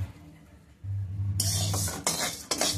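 Wheat grains dry roasting in a pan for thalipeeth flour, a steady scraping and stirring with metal clinks and a light rustle, loud and close, with no talk.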